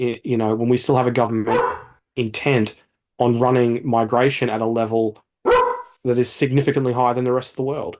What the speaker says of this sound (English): You may have heard the dog in the background.